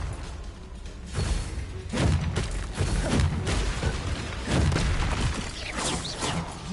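Blasting-spell explosions from a Hogwarts wizard game: repeated heavy booms and thuds, several bursts in quick succession over a dense, loud magical-combat din, with no talk.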